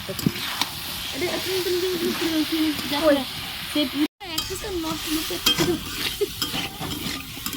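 Heron meat goes into a hot pan of spiced potatoes and is stirred as it fries, giving a steady sizzle with scraping stirs close by while a person talks over the cooking.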